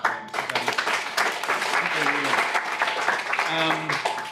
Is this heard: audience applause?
yes